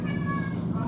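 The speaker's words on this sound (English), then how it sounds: "Everything I do, they're still meowing at me." Cats meowing close by in a home kitchen during sugar cookie baking, a drawn-out tonal meow filling the moment, with soft background noise.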